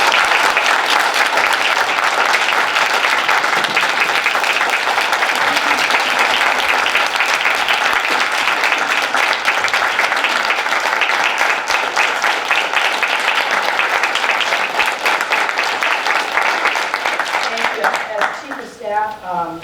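A round of applause at a county board meeting rings out as dense, steady clapping from a roomful of people, fading out near the end as a voice returns.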